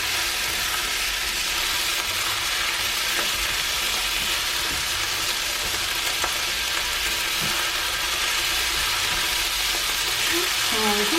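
Leftover rice and egg fry in a hot pan, a constant sizzling hiss broken by stirring scrapes and occasional clinks, close and fairly loud throughout.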